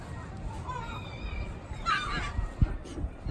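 Geese or other farmyard fowl honk during feeding time at a home in northern France, a few short calls rising over a steady outdoor background with faint noise.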